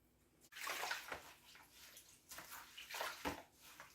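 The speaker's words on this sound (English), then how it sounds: "rinse them off with some water." Water splashes and runs over freshly cut common garden weeds as they are rinsed off for cooking, in a soft, irregular series of splashes and trickles close by.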